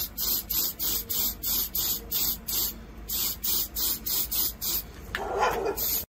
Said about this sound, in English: Put some hairspray on it. Aquanet.